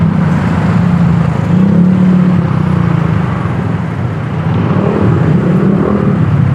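Dense road traffic on the C5 extension, a steady, close engine rumble with low droning vehicles passing continuously and no voices.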